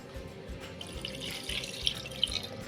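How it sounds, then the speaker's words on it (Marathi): Water, about half a glass, pours quietly into a pressure cooker, a soft continuous trickle and splash with a few brighter drips. "थोडंसं मी पाणी घालणार अर्धा पेला आणि तेच पाणी आपण कुकरमध्ये घालूया"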